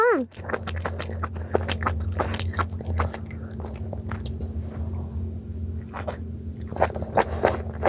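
Close, wet chewing and biting on spicy mala octopus head in a Korean mukbang-style eating session, squishy bites and smacking in an irregular rhythm with a low background hum.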